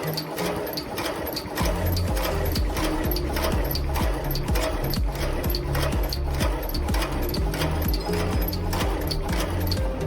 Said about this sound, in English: First, through the screw heading machine to make the head part.